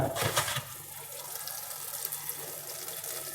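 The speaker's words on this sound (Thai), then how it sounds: "ล้างน้ำเลย เปิดน้ำล้างเลยนะครับ" Tap water runs steadily while caladium seed pods are rinsed under it, a soft continuous splashing with a brief louder gush at the start.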